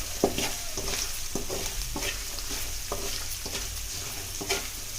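Sabudana khichdi with salt frying in a pan, stirred with a ladle: a steady hiss broken by repeated sharp scrapes and taps of the ladle, close up and alone.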